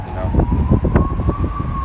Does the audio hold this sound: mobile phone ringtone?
no